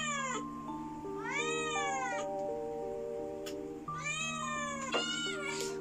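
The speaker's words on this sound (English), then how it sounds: "Of course, her meow. You could tell." A pet cat meows indoors, two long drawn-out cries with rising and falling pitch, loud and close, with no talking.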